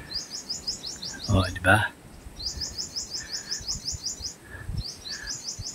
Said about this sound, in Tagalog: naririnig natin ibon. Yan. Alam ko ano yan eh, sunbird.